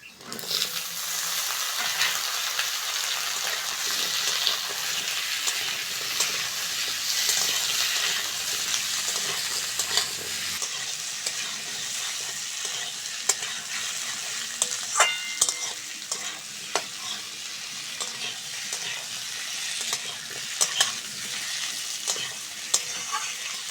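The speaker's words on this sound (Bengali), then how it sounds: "পেঁয়াজের সঙ্গে আলুটা ভালো করে ভেজে নিয়েছি।" Sliced potatoes sizzle with onions in a pan of hot oil for a Bengali fish curry, a loud, constant frying hiss broken by scraping stirs, with no voices.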